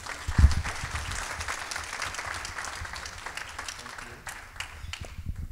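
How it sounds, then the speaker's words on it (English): Audience at an awards ceremony bursts into applause, a dense wash of clapping that starts with a sharp peak and holds steady for several seconds, fairly close and alone. "let's give him a round of applause"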